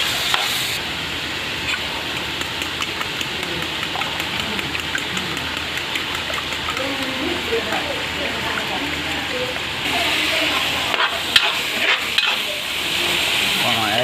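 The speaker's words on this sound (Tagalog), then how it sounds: "Mga idol, gisahin lang po natin ang ating giniling." Ground pork sizzling and frying in a pan while being stirred, a steady bright crackle with occasional scrapes throughout.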